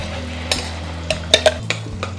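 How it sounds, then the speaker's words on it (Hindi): Ground gravy for a mixed vegetable sabji cooks in a pan while a spoon stirs it, giving scattered metallic clinks and scrapes over a low, steady cooking hiss. "हमने सारी ग्रेवी निकाल ली है, हमें ग्रेवी को 5 मिनट तक पकाना है"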